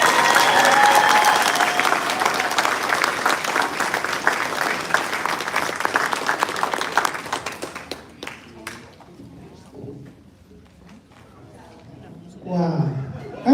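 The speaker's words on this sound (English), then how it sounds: "Let's give them another round of applause." Loud, sustained applause from a large audience closes a commencement speech at the Jersey College Largo ceremony, then thins to scattered claps and murmurs before a brief swell at the end.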